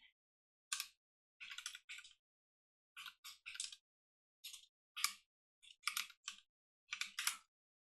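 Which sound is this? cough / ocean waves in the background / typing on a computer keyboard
typing on a computer keyboard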